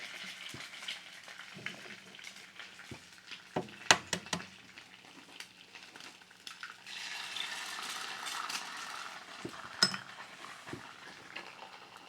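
Eggs cooking on low heat in a stainless steel folding skillet make a faint, close frying sizzle, broken by a few sharp clinks and scrapes of utensil against metal, with no voices.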